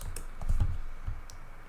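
Quick typing on a computer keyboard, a short burst of close, soft key taps and clicks in uneven rhythm, heard alone without speech.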